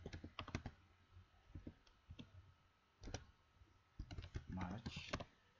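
Rapid keystrokes on a computer keyboard entering data into an Excel spreadsheet, bursts of crisp clicks with short pauses, close and moderately loud.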